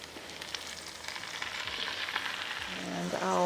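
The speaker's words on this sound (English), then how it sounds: "I'm going to go ahead and add these into the onions and let them saute." Swiss chard greens sautéing with onions in a pan give off a soft, continuous sizzle that builds slightly, with a few light stirring scrapes near the end.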